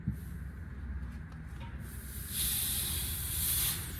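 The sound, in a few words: air compressor tank draining hiss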